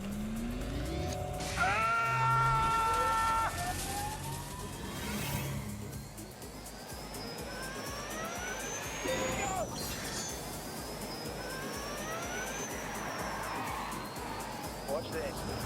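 A NIO EP9 electric supercar launches in The Grand Tour Game, with a rising whine, tyre noise and a rushing surge that builds and holds. Someone talks over it throughout and gives a short exclamation.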